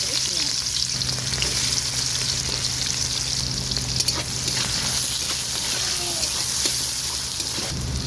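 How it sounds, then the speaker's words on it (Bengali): Potatoes frying in hot oil in a pan, giving a steady, close sizzle and crackle for the whole stretch, with faint stirring and no talk over it. "ভালো করে আমি ভেজে নেব আলুটা লাল লাল হয়ে গেছে"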